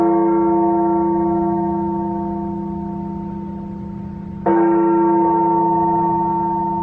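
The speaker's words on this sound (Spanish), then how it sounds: "Vamos a esperar un momento, como siempre, a que paren las campanas." Church bells ringing in a continuous sustained tone that slowly fades, then a fresh strike renews it midway, clear and moderately close, with no talk.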